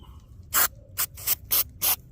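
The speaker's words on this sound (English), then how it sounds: "Do a little spray down with that." Five quick hissing bursts from a cleaner spray bottle onto the electronic throttle body of a 2007 Dodge Ram Hemi, close up and evenly spaced, each a short airy spritz with quiet gaps between.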